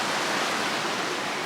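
A mountain stream rushes steadily at a water source on the Continental Divide Trail below a high pass, a close, loud, continuous broadband hiss of flowing water with no other sounds.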